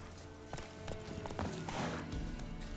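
Hooves clip-clopping in a steady walking rhythm from a horse in The Witcher 3 video game, with a brief whinny and game ambience underneath, fairly close and continuous.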